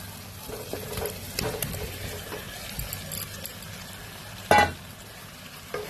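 Fried cauliflower is tipped into a pan of spiced masala for a cauliflower korma and fries there with a low, steady sizzle, broken by one loud clatter partway through.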